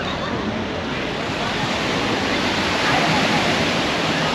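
Ocean surf breaks and washes steadily along Isla Verde beach in Puerto Rico, a continuous broadband roar with light wind noise on the microphone, close to the shoreline and loud throughout.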